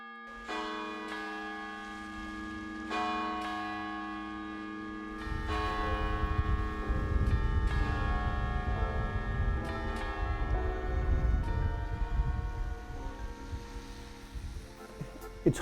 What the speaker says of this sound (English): all of the other church bells in town would start ringing